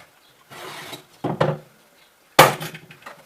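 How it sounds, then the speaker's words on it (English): Scored 5/8 sheetrock snaps in a few sharp, close cracks, with a brief scraping rustle before them and a last loud crisp break near the end. "This is 5/8 sheetrock. I like to score it 2 or 3 times. Snap it."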